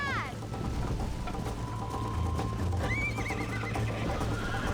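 Rapid hoofbeats of a galloping horse in Red Dead Redemption with a sharp neigh at the start and another whinny midway, over a steady game soundtrack.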